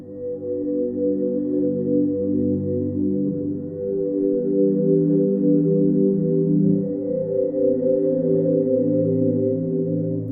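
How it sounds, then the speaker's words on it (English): A sustained, slowly shifting synth pad sampled from a thermos drones with layered tones that gradually morph in timbre, steady and loud throughout. "this is what the evolving pad sounds like"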